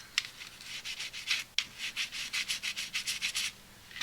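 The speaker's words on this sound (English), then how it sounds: "what I want to do is scuff up the back" Sandpaper rubbing back and forth across the back of a 1966 Chevy Nova drag racing plastic model kit part to scuff the chrome, about a dozen quick, even strokes, close and clear with no talking.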